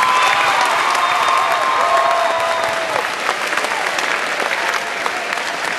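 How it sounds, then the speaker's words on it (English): Audience applause at a convocation, a dense steady clapping from a large crowd filling the hall, loud and continuous before thinning slightly toward the end. "A round of applause for them."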